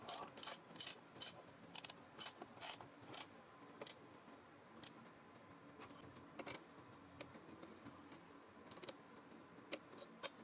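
A ratchet with a 13mm socket turns battery terminal bolts on a DIY LiFePO4 solar power station, giving short bursts of crisp clicks separated by pauses, fairly close and alone.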